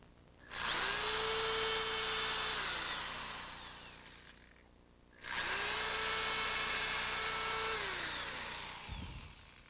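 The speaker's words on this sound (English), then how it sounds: "we're going to use an 1/8 inch bit to drill these holes" Two long bursts of a whining electric drill with a 1/8 inch bit, each spinning up then bogging down as it bores holes, separated by a short pause; close and loud.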